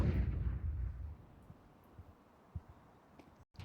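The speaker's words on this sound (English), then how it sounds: "One man and a HE grenade." HE grenade blast in Counter-Strike, a deep low boom at the start decaying over about a second, followed by faint scattered thumps and quiet background.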